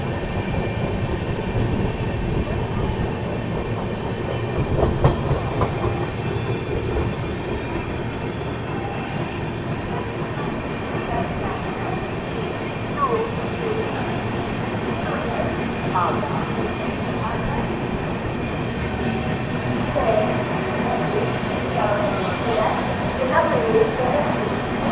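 The Mumbai Howrah Duronto Express running at speed past Dongargarh station, a steady loud rumble of wheels on rail with faint clatter and occasional squeals, heard from inside the coach.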